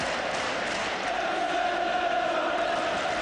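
A football stadium crowd at a Manchester United versus Blackburn Rovers match, a steady dense roar with rising chants and yells, distant and sustained without a break.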